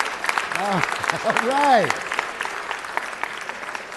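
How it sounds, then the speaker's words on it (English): Audience applause at a city council meeting for a soccer team captain, steady clapping from a room full of people with a voice speaking over it and short shouts mixed in. "give Noel a round of applause"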